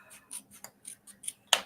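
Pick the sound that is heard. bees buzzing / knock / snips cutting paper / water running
snips cutting paper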